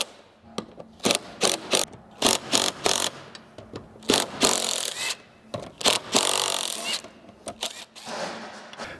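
A ratchet clicks in quick repeated bursts while backing out the factory roof rack bolts on a Lexus GX470, close and fairly loud, with brief pauses between runs of clicks.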